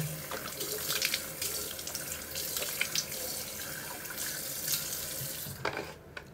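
Running tap water streams steadily into a sink during face washing, a close, continuous splashing and gurgling flow with small spatters, cutting off near the end.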